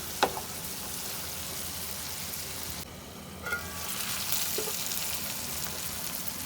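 Bitter gourd and onions fry in a covered pan with a continuous, moderate sizzle, punctuated by a sharp clink and a dip that suggests the lid being lifted, before the frying noise grows louder.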